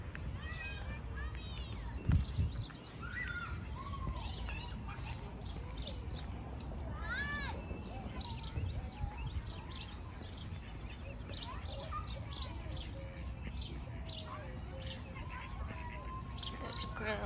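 Birds chirp on and off in the background of an outdoor park scene in The Woodlands, Texas, light high calls scattered under steady ambient noise and occasional distant voices of kids playing.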